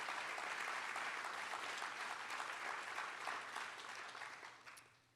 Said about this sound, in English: let's give Colby and the rest of our students a big round of applause